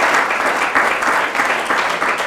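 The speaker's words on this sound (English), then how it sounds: "So a round of applause for the Sustainability Committee again." Diners at a Rye City Lions Club charter dinner applaud the Sustainability Committee, a loud, steady patter of many hands clapping in a room, with no talk.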